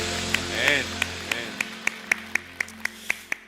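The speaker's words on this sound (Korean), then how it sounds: "우리를 통해서 위해서 일하신 우리 하나님께 영광의 박수 올려드리겠습니다." Congregation applause at a Korean church's summer short-term mission report worship service, heard as about a dozen evenly spaced, sharp claps in steady rhythm over a sustained musical drone and low hum.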